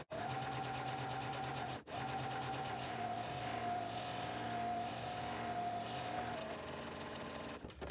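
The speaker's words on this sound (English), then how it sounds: "And then we will sew again down the closed side of the strap." A sewing machine stitches down the closed side of a vinyl strap, a steady mechanical whir with a tonal hum running nearly continuously, broken by one brief pause and stopping near the end.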